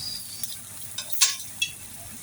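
Eggplant slices sizzle and crackle steadily in hot oil in a frying pan in a home kitchen, with a few sharp pops and clinks of stirring against the pan.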